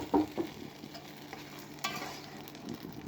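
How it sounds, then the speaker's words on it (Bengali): A hot mixture poured into a pan of malabar spinach gives a few quick splashing sizzles and stirring clatters, close and moderately loud, with no talk. "এটা আমি পুঁই শাকের মধ্যে ঢেলে দিলাম।"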